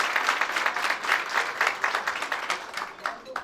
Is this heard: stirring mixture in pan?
no